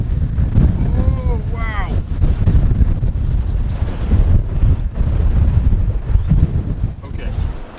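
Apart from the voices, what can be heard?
windstorm gusts over White Sands sand dunes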